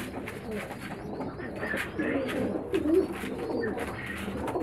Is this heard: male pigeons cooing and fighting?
yes